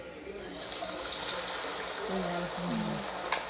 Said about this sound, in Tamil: இப்போ நம்ம மரவள்ளிக்கிழங்கு எண்ணெயில் போடும்போது எண்ணெய் அப்படி பொங்கி வரும்